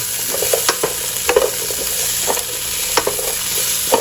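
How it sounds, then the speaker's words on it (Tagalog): Okra, winged beans, radish and string beans being sautéed in a pan for sinigang sa batuan, loud close sizzling with repeated sharp scrapes and clanks of a spatula stirring the vegetables. "Okra, sigarilyas, labanos at sitaw. So, gisa nyo lang."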